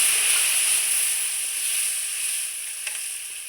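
Whole spices hiss and sizzle steadily in hot oil in a pan, a bright, constant frying crackle heard close up with no talking.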